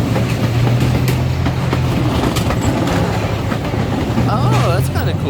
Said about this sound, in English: And that was the train ride.